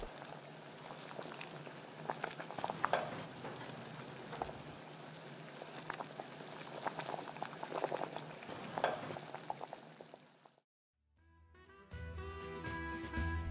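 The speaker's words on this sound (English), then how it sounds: "After all the dumplings float to the surface, continue boiling for about 3 or 4 minutes" Water with blueberry dumplings (varenyky) bubbles at a rolling boil with dense, steady crackling and popping for about ten seconds, then cuts to quiet and music follows.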